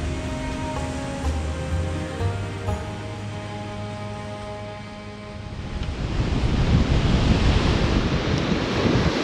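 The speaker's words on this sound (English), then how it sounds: "here I am on the beach again with the Dialuna, and it's so windy" Strong gusty wind buffets the microphone on a beach over a roaring surf, growing louder and harsher toward the end.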